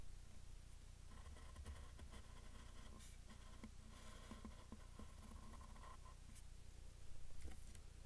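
Pen drawing lines across paper for a police car sketch, a faint scratchy scraping in short strokes beneath a steady low background hum.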